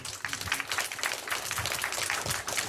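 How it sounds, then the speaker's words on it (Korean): An audience at a political candidates' debate applauds with steady, moderately distant clapping that continues throughout. "일단 염위원님의 인사 말씀을 박수로 청해 들었으면 합니다."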